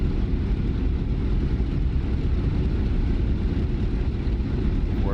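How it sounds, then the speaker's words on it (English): A warbird propeller plane taxis in the DCS flight simulator, a loud, steady low engine rumble held at an even level, with no talk. "you're taxiing an airplane"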